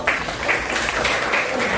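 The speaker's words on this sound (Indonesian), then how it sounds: "Tepuk tangan buat Raffi." A high-school sociology class gives a student a round of applause, a short burst of fairly loud, close clapping from a roomful of pupils.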